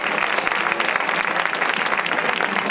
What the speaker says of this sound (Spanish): Un aplauso para Jorge Toro